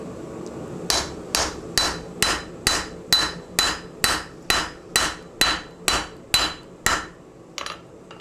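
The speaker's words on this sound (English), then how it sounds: "using our straight peen and our little area that we rounded off for this, we're going to start forging this step down in" A blacksmith forges a step into a hot steel knife blade with a straight peen hammer, striking about fourteen evenly spaced, sharp ringing blows up close, followed by a couple of lighter taps.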